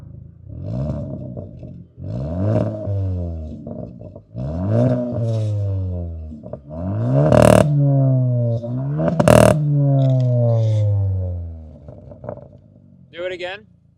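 A Hyundai Elantra N and Elantra N-Line exhaust revving for a loudness comparison, with repeated rising and falling engine revs in bursts, close and loud, including two sharp crackling pops.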